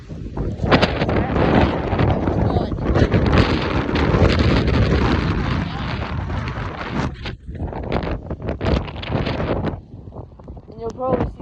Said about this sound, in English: Like it is windy.